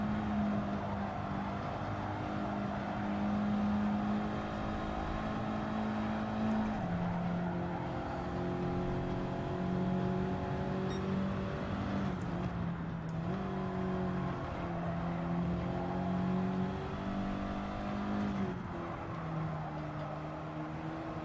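A race car engine in Gran Turismo 7, an Audi, drones steadily at close range with sustained high revs, dropping in pitch at gear shifts or braking near 7, 12 and 18 seconds before climbing again.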